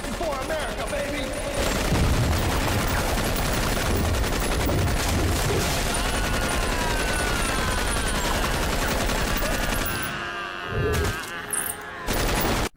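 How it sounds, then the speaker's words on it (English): Sustained rapid gunfire from two guns fired without pause in a campy Sharknado 3 action scene, as a man slides along a parquet floor; dense, loud bursts run for about ten seconds, then thin into sparse shots, with voices mixed in. "Finn sliding along a parquet floor, firing 2 guns without pause"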